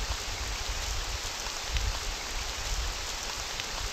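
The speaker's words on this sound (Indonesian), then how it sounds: "Hujan-hujan cuy." Steady rain falls in a pixel-art horror video game, a continuous even hiss of downpour that holds at a constant level throughout with no voices over it.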